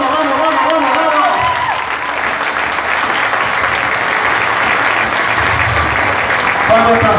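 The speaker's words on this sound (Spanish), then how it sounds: "Dale un fuerte aplauso a papá." A church congregation applauds loudly and continuously for several seconds, a dense, steady roar of many hands with voices mixed in.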